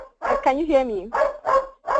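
A dog barks and yips somewhere in the background during an online meeting, short repeated barks mixed with a person speaking close to the mic.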